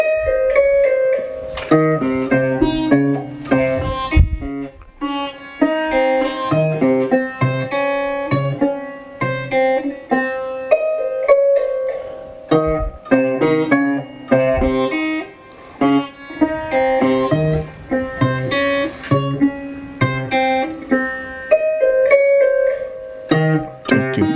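Several plucked string instruments play together in a lively, rhythmic pattern of overlapping notes and chords, with brief pauses between phrases.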